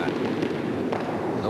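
A curling stone strikes another stone squarely on the nose during a match at an indoor rink, giving one sharp clack partway through amid a steady murmur of arena noise and voices.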